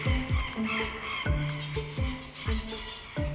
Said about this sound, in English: His rather noisy table manners can be heard through the whole forest.